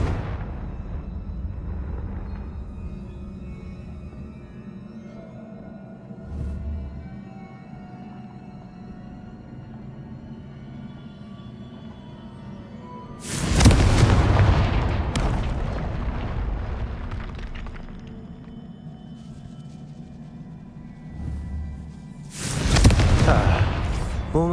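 Two Confringo spell blasts from the Hogwarts Legacy video game, booming bursts about ten seconds apart, each with a loud crackling roar that trails off, set against a low ambient rumble.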